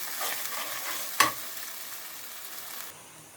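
Close, steady sizzling of sukkan keerai greens stir-frying in oil, with a single sharp scrape of stirring partway through.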